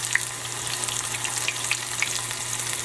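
Okra frying in oil in a pan, a steady close crackling sizzle with scattered sharper pops and a faint low hum beneath, no voices.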